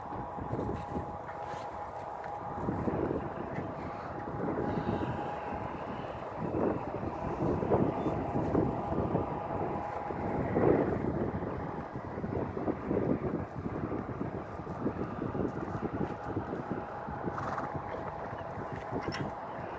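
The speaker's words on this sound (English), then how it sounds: "It's a little windy out here" Steady wind rumbles and gusts against the microphone for the whole stretch, with no talking.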